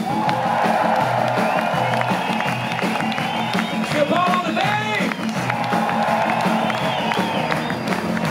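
An audience at a live rock concert applauds and cheers, a dense, loud, continuous wash of clapping with whoops and shouts rising over it.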